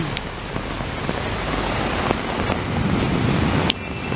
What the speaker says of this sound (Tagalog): Sa lakas ng ulan